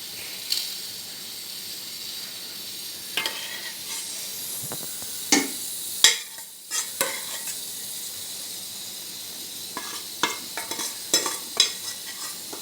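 Milky rice pudding being spooned and scraped from a pot onto another plate, with scattered clinks and scrapes of the utensil and a soft wet stirring sound between them, close by with no talking.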